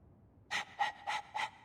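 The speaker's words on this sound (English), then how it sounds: "All that noisy dog breath, day in, day out. Make him stop." A dog pants heavily in Dragon Age II, giving four evenly spaced, breathy huffs after a short quiet lead-in, close and fairly soft.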